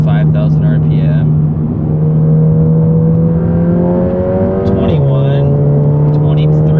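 A VW GTI fitted with an IS38 turbo upgrade pulls hard through the gears toward 5,000 RPM, a loud, steady engine drone climbing in pitch with a brief drop at a shift, plus turbo whistle and spooling noise above it.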